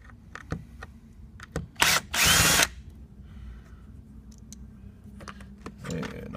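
A power drill backs out Phillips head screws from a 2007 Acura TL door panel, with a couple of short bursts and then one sustained close whir against a quiet garage background.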